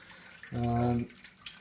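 Water runs from a tap into a homebrew vessel on a honey ale brew day, filling toward about 24 litres: a short, steady, humming gush of roughly half a second, close and fairly loud, between quieter stretches.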